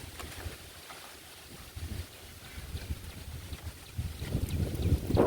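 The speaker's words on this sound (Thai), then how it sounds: "ลมแรงมากเลย" Strong wind blows outdoors near a house doorway, buffeting the microphone with a continuous rushing roar and low rumbling gusts that grow louder toward the end.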